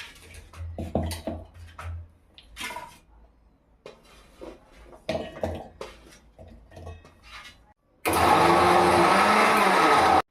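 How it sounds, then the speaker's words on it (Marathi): A mixer grinder blends onion and tomato for a soya paneer curry, first with clinks and handling of the jar, then a loud, steady motor whir that runs alone for the last two seconds. "तर आता आपण मिक्सरमध्ये ते लावून घेऊया कांदा टोमॅटो"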